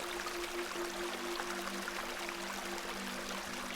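Gentle, constant burble of a small beck in a video game, a soft trickling stream of water running steadily at low volume with a faint tonal hum underneath.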